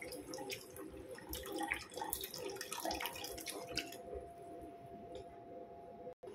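Fresh milk poured into a pasta sauce for carbonara or tuna pasta, a steady liquid trickle and splash that runs close and moderately loud for about six seconds before cutting off.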